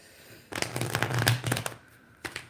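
A deck of Rider-Waite-Smith tarot cards being shuffled by hand, a close burst of rapid papery riffling lasting about a second, then a short flick of cards after a pause, with no talk.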